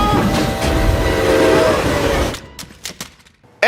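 A toy train set rumbles and clatters loudly on its track during a superhero fight scene in a Marvel film, the steady clatter stopping abruptly into a few sharp knocks and clicks.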